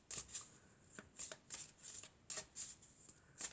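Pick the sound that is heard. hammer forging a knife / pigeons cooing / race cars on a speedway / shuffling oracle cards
shuffling oracle cards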